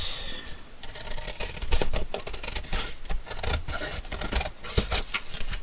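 Scissors or a craft blade cutting paper material for a junk journal, a run of sharp crisp snips and scratchy clicks close by with no talk.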